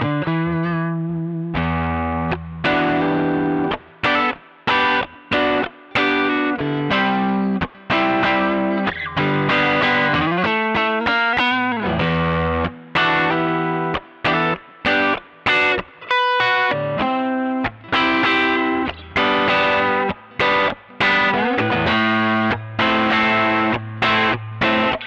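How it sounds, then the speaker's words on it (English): Electric guitar on its neck pickup runs through a Strymon Sunset 2-stage overdrive pedal with low gain, a close, driven passage of chords and picked notes with brief stops between phrases. "Definitely I would use this 2-stage overdrive with the gain backed off as my principal low gain overdrive sound."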